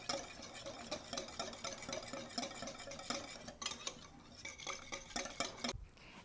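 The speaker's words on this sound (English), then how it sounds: "we're just going to kind of mix it up" Pumpkin pie spice is stirred into dump cake ingredients in a bowl, with a steady run of close utensil clinks and scrapes against the bowl for several seconds and no talking.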